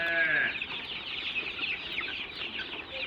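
Free-range poultry birds cluck busily around a dish of medicated water, a dense, continuous chatter of many hens at moderate distance with no talk.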